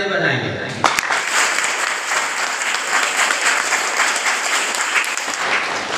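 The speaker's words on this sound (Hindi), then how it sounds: "ताली बजाएंगे" Audience applause at a Hindi religious talk, a dense sustained wash of many hands clapping that starts abruptly after a moment of speech and continues loudly to the end.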